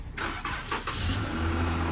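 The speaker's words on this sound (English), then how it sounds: "get that cold start on mom's car" Cold start of the family car, with the starter burst giving way to a loud engine catch and a steady, rumbling idle settling in close by.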